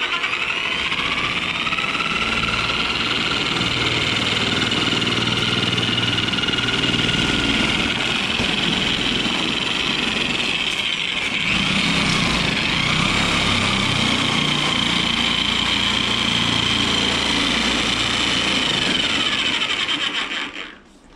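Genesis metal shears cutting a metal roofing panel, a continuous high-pitched motorized whine with a grinding edge running steadily for about twenty seconds, close and loud, then stopping abruptly.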